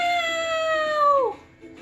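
A storyteller's voice imitates a cat's meow, one drawn-out sustained note that bends downward at the end, close and clear.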